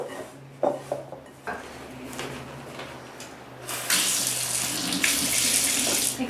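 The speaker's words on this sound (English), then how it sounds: "you can add a little bit of water, like a teaspoon to a tablespoon at a time" Water runs from a kitchen tap while dishes clink nearby, a small amount being added to bread dough for Chinese pork buns; a few light knocks come first, then a steady hissing stream swells and continues to the end.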